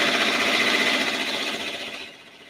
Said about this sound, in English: So I'm going to click lock and go, and we'll watch that stitch out.